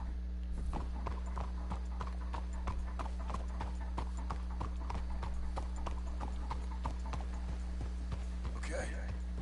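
Horse hooves clip-clopping in a video game, a steady rhythmic walk of several horses, close and clear over a constant low hum, with a short burst of voice or rustle near the end.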